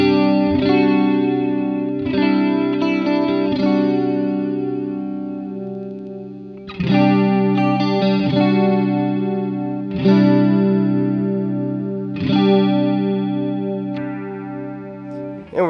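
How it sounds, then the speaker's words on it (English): An electric guitar runs through a Swindler Effects Gulf chorus pedal set to a slow triangle wave. It plays a few strummed chords, each left to ring out with a gently wavering, shimmering sustain, and no voices are heard. "I'm going to go back to one of my favorite, just kind of subtle chorus modes."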